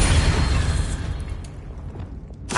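A Confringo spell blast in Hogwarts Legacy, a loud, rumbling explosion that fades over about two seconds before a brief new burst at the end.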